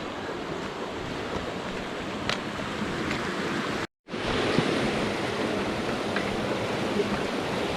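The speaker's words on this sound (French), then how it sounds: "La Léoncelle, magnifique rivière." The Léoncelle river in the wild Drôme countryside rushes steadily, a broad continuous wash of flowing water close to the microphone with a brief dropout midway.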